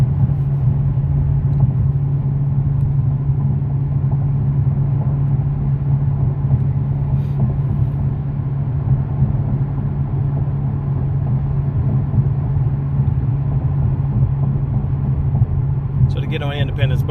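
A Dodge Challenger R/T cruises along a road with a steady low engine and road rumble, heard from inside the car. Someone talks continuously over the constant drone.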